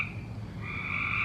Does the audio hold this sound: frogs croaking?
yes